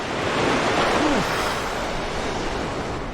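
Stormy sea waves in Final Fantasy 14 roar in a continuous, wind-swept rush of surf, loud and unbroken, with a faint swell rising and falling partway through.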